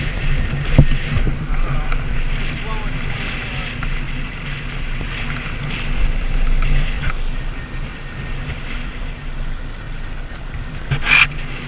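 Small open sailboat beating upwind toward a shoreline in strong blowing wind, with steady broadband wind and water rush throughout, low rumbling gusts and occasional splashes or slaps near the hull.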